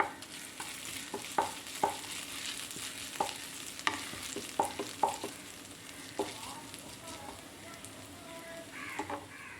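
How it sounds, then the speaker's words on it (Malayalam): Grated ginger sizzles in oil in a pan while soya chunks masala is being cooked. There's a steady soft frying hiss, with a spatula scraping and clinking against the pan at irregular intervals, fairly quiet and without speech. "ഒന്ന് വഴറ്റാം."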